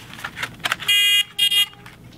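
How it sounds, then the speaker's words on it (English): An electronic buzzer, wired to a homemade slide switch, gives two loud steady tonal bursts, the first about a third of a second and the second shorter after a brief gap, with faint handling noise before them. "You slide it up, the buzzer go on."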